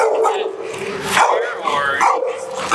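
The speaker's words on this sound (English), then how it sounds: "what is that barking and charging?" A reactive dog barks in a few sharp, close bursts, roughly a second apart, while a person talks over it.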